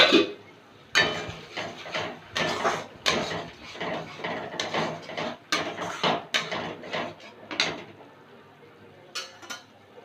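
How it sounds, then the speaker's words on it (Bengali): Metal pot and lid clattering on a kitchen stove while fish curry cooks, a run of sharp clinks and clanks in irregular bursts, close and moderately loud, with no voices. "এক মিনিট পরে ঢাকনাটা তুলে নিলাম"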